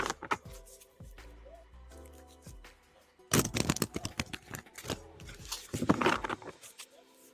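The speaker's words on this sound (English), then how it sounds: "I am shuffling for your next question." Cards shuffled during a live pendulum yes/no reading, with soft riffling and pattering that grows into dense, brisk bursts partway through, fairly close, and no talking.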